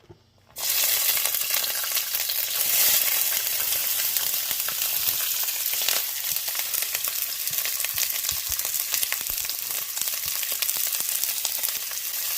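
Chopped sweet peppers and jalapeno hit a hot skillet and burst into a loud, steady sizzle that continues densely to the end, close-miked with no speech.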